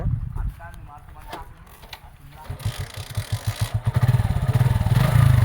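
A motorcycle engine catches and starts, its low firing pulses building into a steady, fairly loud idle with a few blips of revving, with voices talking nearby at the start.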